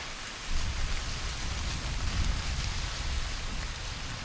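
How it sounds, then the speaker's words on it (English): Steady rain falls on an island shore in the Torres Strait as a cyclone passes offshore, a dense, even hiss of drops that holds at moderate loudness throughout with no voices. "rain stops play"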